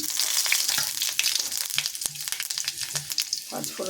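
Panch phoron spices fry in hot oil with a dense, loud crackle and sizzle. Short spatters and stirring scrapes come close up throughout.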